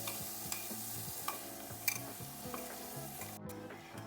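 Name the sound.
stirring ground mung dal paste into coconut in pan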